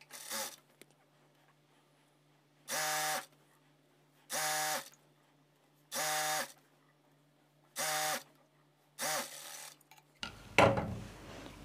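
A sewing machine stitches a blouse hemming belt in five short, even bursts of whirring, each about a second long and separated by pauses, over a low steady hum. A louder rustle of handled fabric follows at the end.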